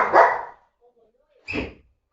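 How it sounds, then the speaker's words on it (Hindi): A dog barks indoors at someone at the door, two loud bursts about a second apart with a short quiet gap between them. "मेरा कुत्ता बहुत भौंक रहा है यार, like there is someone on the door"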